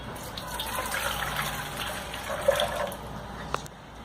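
A cup of water is poured into a pan to make caramel syrup for a passion fruit pudding, a steady splashing trickle with a couple of small clinks near the end.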